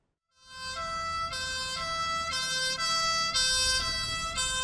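A fire brigade van from the territorial fire unit in Veles sounds its siren on arriving at a school, a loud two-tone wail that alternates steadily without speech.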